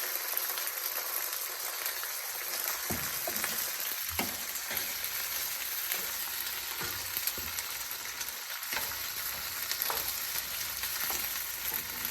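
Chopped green chillies sauté in hot groundnut oil on a stove turned up high for a Tamil green chilli thokku, a steady loud sizzle and frying crackle running unbroken throughout with occasional sharper pops and stirring.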